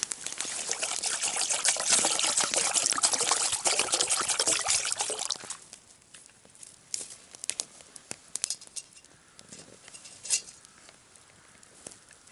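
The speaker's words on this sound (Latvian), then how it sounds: "Ūdens ir uzlikts vārīties." Water poured into a pot to be boiled, a steady trickling splash for about five seconds that stops, followed by quieter clinks and handling noises.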